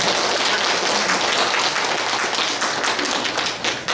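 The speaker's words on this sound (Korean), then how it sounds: "여러분 박수 한번" Audience applause at a Korean art exhibition gathering, a dense, steady wash of many hands clapping that fills the room and starts to thin toward the end.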